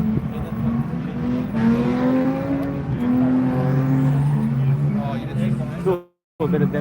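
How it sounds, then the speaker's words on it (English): A car revs hard and steadily while drifting and spinning on the drifting track at Oakburn Park motorsports complex in NSW, Australia; the close, loud engine drone with tyre noise runs throughout, then cuts out briefly near the end. "Spinning it, you got to get the car spinning."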